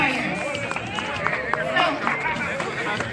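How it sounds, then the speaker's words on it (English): A crowd applauds at a San Antonio mayoral campaign event after a firefighters' association representative is introduced, with brisk, steady clapping mixed with chatter and voices close by throughout. "Give him a round of applause."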